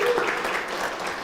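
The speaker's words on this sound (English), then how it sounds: "Let's give them all a round of applause." Brief applause from the audience at a Rotary roast and recognition event, a short, fairly loud wash of clapping lasting just over a second.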